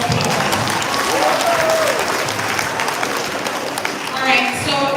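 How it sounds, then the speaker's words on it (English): Loud, dense applause from a large audience at a high school graduation and valedictory ceremony, a continuous wash of clapping with faint voices and cheers mixed in. "give them a round of applause"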